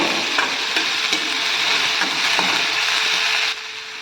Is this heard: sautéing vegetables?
yes